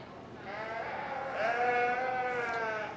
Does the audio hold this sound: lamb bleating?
yes